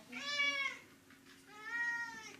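A cat meows twice, close and clear, with two drawn-out calls separated by a short pause.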